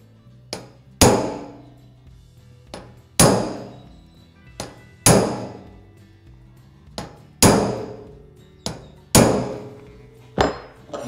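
Hammer blows drive a chisel to shape car body metal, about ten sharp metallic strikes at an uneven pace, close and loud, with ringing decay after each hit and no talking.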